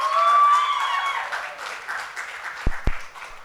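Audience applause fills the hall at a Bollywood documentary-series trailer launch event, a steady wash of clapping with a musical tone fading underneath and two sharp low thumps near the end.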